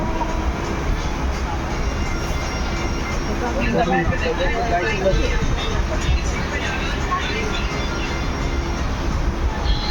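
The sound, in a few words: Avadh Assam Express train running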